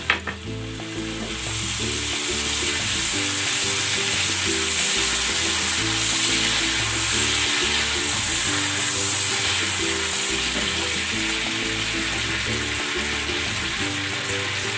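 Steady loud sizzle of frying in a pan after lemon juice goes in, a continuous crackling hiss with a rhythmic stirring scrape running underneath, no voices.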